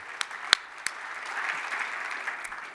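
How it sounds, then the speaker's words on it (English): Light audience applause at a startup pitch night, a thin scattering of claps at modest volume with a few sharp louder claps standing out near the start. "I think that deserves a round of applause"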